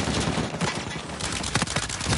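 Dense, continuous gunfire fills an Uncharted 4 multiplayer match, rapid shots piling over one another at close range with a few sharper bursts standing out, loud throughout with no pause.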